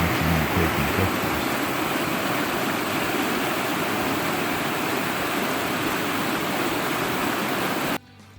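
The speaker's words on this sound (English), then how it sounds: "Lots of little waterfalls." Several small waterfalls tumble along a forest creek in a steady, dense rush of water that stays close and loud throughout, then drops away sharply just before the end.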